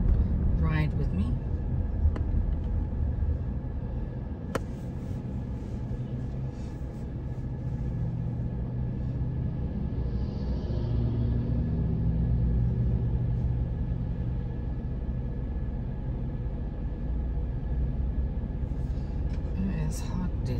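A car is heard from inside on a hot day on the way to the vet's office: a steady, loud low rumble of engine and road noise runs throughout with little change.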